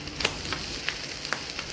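Beef fry being stirred in a pan after a pinch of asafoetida goes in, a low steady sizzle broken by a few soft spoon scrapes and clinks, quiet and close with no talking.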